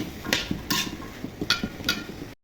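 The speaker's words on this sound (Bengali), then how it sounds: "এখন কেটে রাখা সিমগুলো দিয়ে দিব সিমগুলো নেড়ে চেড়ে ভেজে নেব" Cut beans are stirred and fried in a pan, a utensil scraping and knocking against the metal in about five bright strokes over a low crackling sizzle, close and moderately loud.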